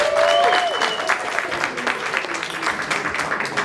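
Audience applause at a Newark storytelling event, a steady broadband patter of clapping hands with a brief tonal whistle or cheer near the start, fairly close and sustained throughout.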